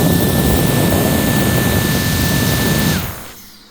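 Mantachi cordless mini air jet blower on its 130,000 RPM turbo setting, a loud, close, jet-like whine with a steady high tone and hissing rush that winds down sharply near the end.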